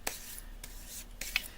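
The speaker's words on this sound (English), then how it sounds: "Give it a good rub with the palm of my hand." A palm rubbing a rubber stamp onto a wooden E-block, several short dry brushing swipes in quick succession, close and fairly quiet.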